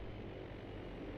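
A steady, droning propeller airplane engine in the Arma military video game, loud and continuous for a brief moment, with no speech.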